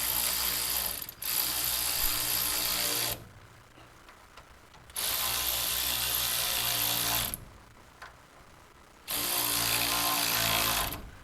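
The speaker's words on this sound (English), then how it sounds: "I get them started with the ratchet and give it a couple of ugga-duggas here." A ratchet spins leaf spring bolts in a garage, loud close-up bursts of rapid clicking in three long runs separated by short pauses, with no talking.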